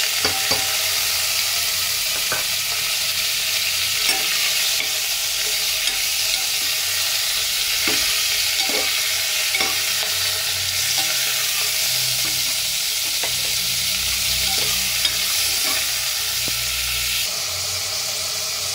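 Pork sizzles and fries in a hot pan while being stirred, a steady loud hiss broken by occasional scrapes of a utensil, with no one speaking.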